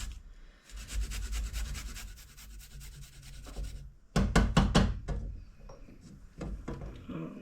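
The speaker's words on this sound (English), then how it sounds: "Now we will put in the garlic. I'm going to grate it in there straight over." Garlic cloves grated by hand straight over a pot of chicken egg drop soup, a steady run of dry rasping strokes, then a few sharper scrapes and knocks, close up with no talk.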